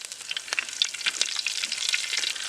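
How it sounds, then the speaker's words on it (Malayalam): Green chillies hit hot oil with curry leaves and ginger-garlic paste for a country chicken curry, making a steady, close crackling sizzle with dense bright pops throughout and no talking. "ഇനി പച്ചമുളക് ഇടാൻ പോവുക."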